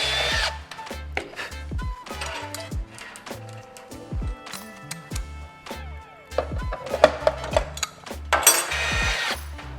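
Power drill boring through aluminium aircraft-style metalwork on a jet tank racer build in a workshop, heard as repeated short bursts of whirring and grinding with clatter between them, fairly close.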